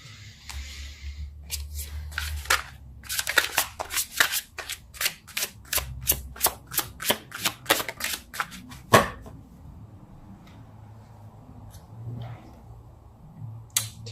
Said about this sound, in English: Let's pull a card for you